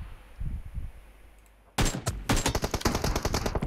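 Gunfire in the PUBG Mobile video game: a quiet start with some low murmuring sound, then a sudden loud burst of rapid automatic shots in a close, rhythmic volley that keeps going to the end.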